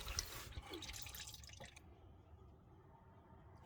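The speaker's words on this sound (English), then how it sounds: "There, just pulled the drain plug out." Engine oil draining from a 2010-2014 Ford F150 with the 6.2 Boss engine after the drain plug is pulled. A dripping, pouring trickle is strongest at first, then thins to a quieter steady drain.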